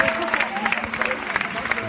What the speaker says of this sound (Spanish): Entre aplausos y vítores